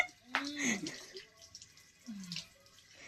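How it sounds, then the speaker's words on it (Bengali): Faint splashes of water come in two short bursts as someone washes their face, with soft vocal sounds between them. "আমি কেমনে করে মুখ ধুই দেখো।"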